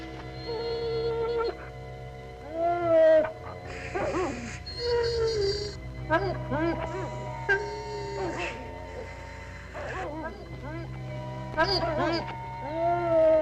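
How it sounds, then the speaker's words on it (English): Several dogs in the Yukon wilderness yip, whimper and howl in short, rising bursts, fairly close and repeated, with people's voices mixed in. "I'm going out back and see why they're barking"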